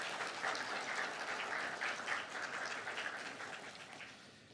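A crowd applauds steadily, a dense patter of many hands clapping that gradually fades toward the end.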